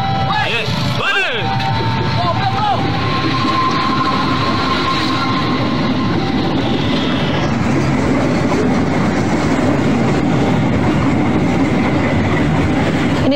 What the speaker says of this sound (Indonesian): ia terjebak di antara 2 jalur rel kereta karena pada saat yang bersamaan melintas KRL